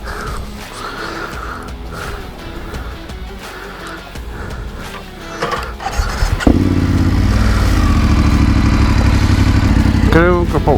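Motorcycle engine running on a solo ride toward Dakar, lightly loaded, as the rider takes it slowly over stony ground. The engine drone sits steady and close throughout and grows louder and rougher in the second half.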